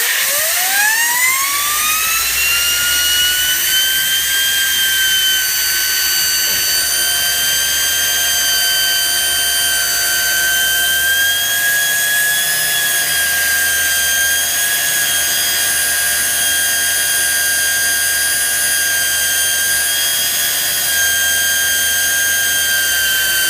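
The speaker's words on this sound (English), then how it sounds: "I've never seen my wheel spin up so high that I actually went past the upper limit of my RPM gauge" A Traxxas RC car wheel spins up freely to very high RPM, a rising electric whine that climbs steeply in the first seconds and then holds a loud, steady high-pitched scream with no voices.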